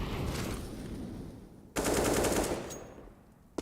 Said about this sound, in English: Shots from Config, falls away